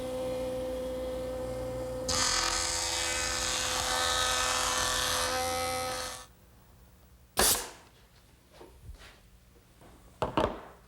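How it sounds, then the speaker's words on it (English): A jointer planing 3/4 inch wood stock: a machine hum rises into a loud, steady planing roar for about four seconds, then cuts off, followed by quieter handling knocks and clunks. "I'm going to make a couple passes through the joiner."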